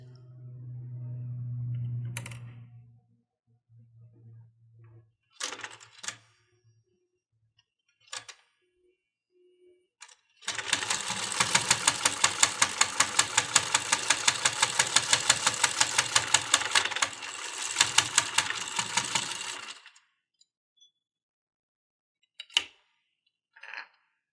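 A sewing machine stitches pages into a handmade needle book with a fast, steady run of close mechanical clatter lasting several seconds, framed by scattered handling taps and a brief murmur of voice at the start.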